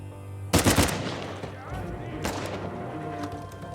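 Gunfire from the video game Uncharted 4: a dense burst of rapid shots opens the clip, then a second sharp report follows, with game ambience and some voices underneath.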